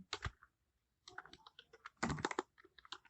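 Quiet keystrokes on a computer keyboard while Python code notes are written: a short flurry of taps, a brief pause, then a denser run of clicking keys.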